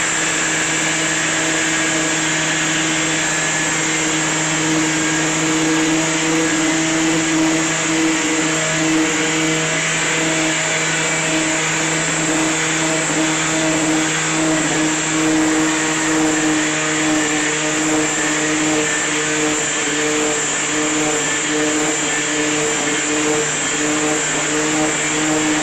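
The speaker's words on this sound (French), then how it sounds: "Donc en fait on va le poncer, le travailler pour dire qu'il fasse corps avec le pare-choc" A steady power sander works filler on a car bumper, a constant whirring drone with a high whine, unbroken and close for the whole stretch, with no talk.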